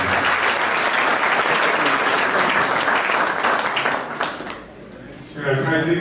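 An audience at a public event in Carhuaz applauds loudly and continuously, then the clapping fades out and a voice begins at a microphone.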